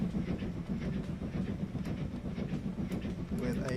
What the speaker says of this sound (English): that is the new train that will be running along here